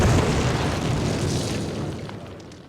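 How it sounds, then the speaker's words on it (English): A cinder block wall blown apart by planted explosives in the Call of Duty PC game: one loud, close, rumbling blast that fills the whole moment and slowly decays, with no talking. "Place your explosives on the cinder block wall."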